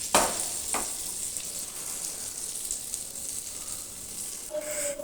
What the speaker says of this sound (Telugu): గీతో కూడా ఫ్రై చేసుకోవచ్చు అన్నమాట